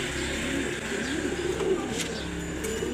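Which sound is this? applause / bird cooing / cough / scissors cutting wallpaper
bird cooing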